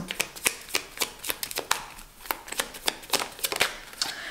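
Tarot cards shuffled and dealt during a reading, a steady run of crisp riffling flicks and snaps, close and fairly quiet, with no voice.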